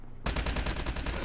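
Rapid automatic gunfire in Call of Duty Mobile, an HBR rifle firing a sustained burst of close, loud shots in steady rhythm after a brief quiet start, with no talk.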